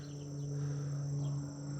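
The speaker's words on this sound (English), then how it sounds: "there's bees. There's activity." Honeybees buzzing in a bee yard, a steady droning hum with sustained tonal layers, fairly close and continuous with no talk.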